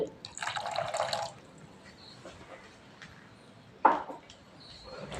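Water is poured into a thick soaked semolina batter in a bowl, a brief splashing pour at the start followed by quieter drips and a short sharp splash later, close and fairly soft.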